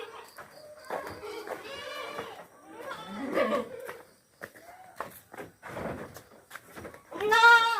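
Goats, a mother and her kid, bleating in a rear pen at Yudhistira Farm: several loud, wavering, nasal cries in close succession, the last one strongest.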